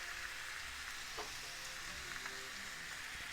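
Soft, steady sizzling of mushrooms frying in a pan with a spoonful of flour added, faint and continuous, with an occasional light scrape of stirring.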